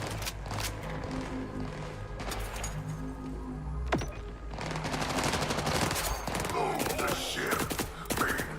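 Rapid gunfire from a recoil-free weapon in the shooter game Borderlands 4 rattles in dense, continuous bursts layered over busy in-game sound effects and clanks.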